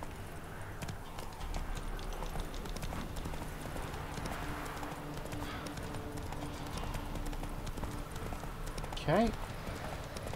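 Roach, the horse in The Witcher 3, gallops at a steady rhythm of hoofbeats that runs through the whole stretch, with a brief whinny near the end and a person speaking briefly.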